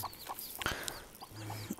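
A country hen brooding freshly hatched chicks clucks near at hand in soft, repeated low calls, while high thin peeps from the chicks break in between.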